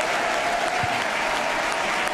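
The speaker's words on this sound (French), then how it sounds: "continuez à applaudir" A theatre audience at a live French satirical stage show applauds steadily, a dense continuous wash of many hands clapping at even loudness throughout.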